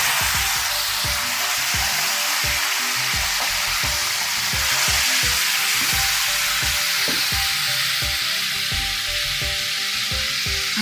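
Quail pieces, marinated in buttermilk and still chilled, splutter and sizzle in hot oil as they fry, a loud continuous hiss with rapid popping crackles throughout, close and without talking.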